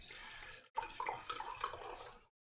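Wine pours from a bottle into glasses, a close, quiet liquid splash and trickle with a brief pause as the pour shifts between glasses, ending abruptly.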